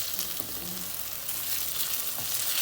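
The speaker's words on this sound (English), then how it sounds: "Time to flip the bondas the other side." Pumpkin bondas bubble and sizzle loudly in hot oil while being turned to the other side, a dense continuous crackle with small knocks from the utensil.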